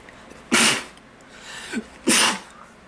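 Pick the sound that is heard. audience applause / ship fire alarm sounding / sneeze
sneeze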